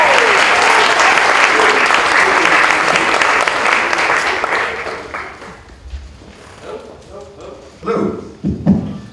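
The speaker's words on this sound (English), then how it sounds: "please, if you would, a round of applause for the co-founder and organizer of Branded Limited" Audience applause welcomes the co-founder and organizer of Branded Limited to the stage at a press briefing, a loud, dense wash of clapping for about five seconds that thins into scattered claps and a few voices.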